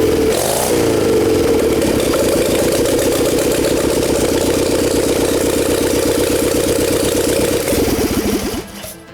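A 1930 Harley-Davidson hill climbing motorcycle runs at a museum, a loud, close, rapid staccato exhaust beat held steady for several seconds before a brief rev and cutoff.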